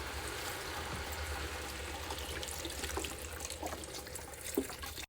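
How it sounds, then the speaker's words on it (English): Chicken broth pours steadily from a container into a pot of chicken soup, a continuous close liquid rush and splash lasting several seconds without speech. "I'm going to pour in this container of chicken broth"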